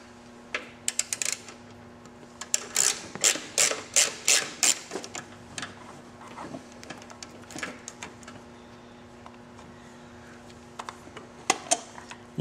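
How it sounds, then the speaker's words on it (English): A ratchet fitted with a 6mm Allen socket works a gas tank bolt on a steel-frame Victory motorcycle, giving a fast run of close, crisp clicks followed by scattered quieter clicks and handling sounds. "It takes a 6mm Allen socket to get that out."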